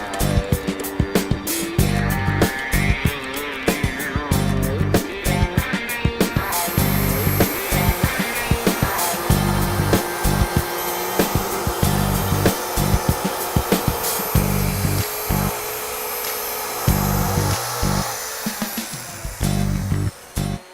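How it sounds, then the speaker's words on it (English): A saw cuts through an aromatic cedar log just beyond the sapwood, giving a loud, steady mechanical whine broken by rapid rhythmic pulses and harsh tonal shifts as the blade bites and runs on. "Give me enough room to start the saw."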